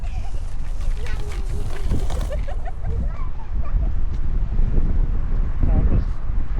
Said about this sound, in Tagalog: ang lamig, lakas ng hangin eh